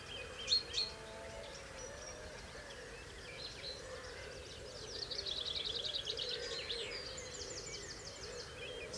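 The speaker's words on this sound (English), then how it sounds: "or listen to the birds." Small birds chirp and sing outdoors in a quiet spot, scattered calls and a brief trill, faint to moderate, with no talk.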